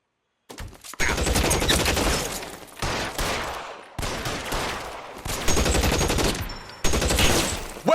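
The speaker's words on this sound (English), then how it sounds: "Shots fired." Bursts of gunfire from a shootout in L.A. Noire, loud and close, with several rapid volleys separated by brief pauses across the clip.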